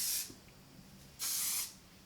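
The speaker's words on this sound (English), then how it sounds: "I pick my curls and I sort of spray underneath." Two bursts of hairspray from an aerosol can, a short hiss followed after a pause by a longer, steady spray, close by.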